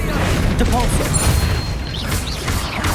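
Depulso force spell striking inside a spider-infested catacomb tomb in Hogwarts Legacy: a burst of broadband crashing and rumbling impact noise with brief whooshing tonal chirps, sustained and loud across the moment.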